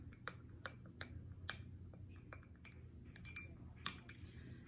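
A spoon stirring a spoonful of honey into a drink, producing light, irregular clinks and taps against the glass over a faint background hum.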